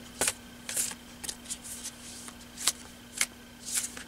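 Tarot cards being laid out one by one on a table during a Virgo reading, giving a series of soft, quick card slaps and slides spaced about half a second apart, close and quiet with no talking.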